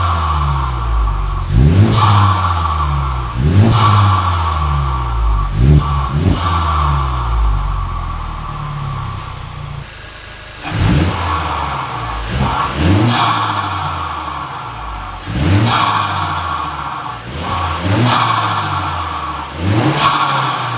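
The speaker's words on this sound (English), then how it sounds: "let's go ahead and get some revs" Repeated rev bursts from a Honda Civic Type R FK8 turbo engine fitted with a titanium turbo inlet pipe, each blip rising sharply then falling back to idle, loud and close, roughly every two seconds with no talking.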